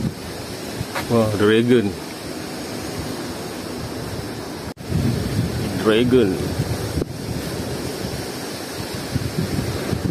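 Steady sea surf washes onto a beach beside a temple, a continuous broad rush mixed with wind buffeting the microphone, while people chat over it.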